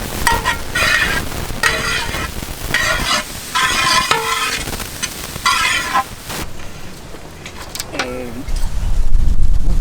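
Carrot frying in oil for an egg omelette, a steady sizzle under stirring, with bird clucks and other background noises cutting in at times, close and fairly loud.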